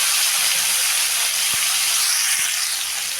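Cauliflower fries in hot oil in a pan, giving a steady, loud, close sizzle and hiss with a couple of brief knocks.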